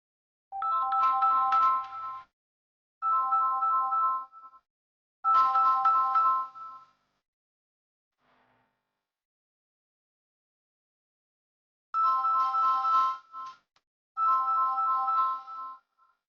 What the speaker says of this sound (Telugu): నా కోడలుందిగా, నిషాకి ఫోన్ చేస్తాను.